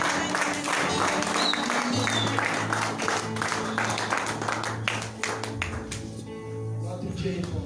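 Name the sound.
congregation applauding for the glory of God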